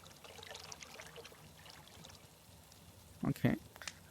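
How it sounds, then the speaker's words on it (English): Water pouring and trickling as a drink is taken in the Frost Survival VR video game, a soft low wash running faintly throughout, with a few brief louder splashes near the end. "Did I drink water or did I spill all of it?"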